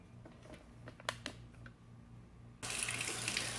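Water gushes from a kitchen sink tap, a loud steady rush that switches on abruptly after a quiet stretch with a few light clicks and knocks.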